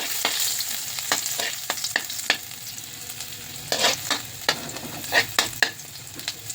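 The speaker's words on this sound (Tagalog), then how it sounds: "Mainit na naman yung ating isang kawali. Yung mantika, yung pa rin ang ginamit ko. Kasi para hindi sayang, gisa na natin ang ating luya." Ginger sautéing in hot reused oil in a pan, a steady sizzle broken by repeated scraping and stirring strokes of a utensil, close and fairly loud with no talking.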